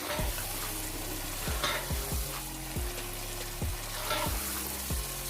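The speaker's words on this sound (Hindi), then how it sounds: "अब हम इसके अंदर चिकन को ऐड कर देंगे। चिकन को ऐड करने के बाद इसको अच्छे से मिक्स कर देंगे।" Chicken pieces stirred into ready masala in a pan for chicken bhindi, frying with a steady sizzle while a spoon scrapes and stirs in repeated strokes, close and continuous with no talking.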